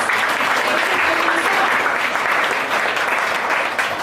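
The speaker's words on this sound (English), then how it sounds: "Let's give him a round of applause" Loud, close applause at an office team meeting, a continuous burst of many people clapping briskly and evenly throughout, with a faint voice just audible beneath it.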